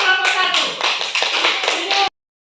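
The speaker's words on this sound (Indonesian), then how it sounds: "Oke, tepuk tangan untuk kelompok 1." Classroom applause for a student group, a short burst of close clapping hands from a small class that runs about two seconds and then cuts off abruptly.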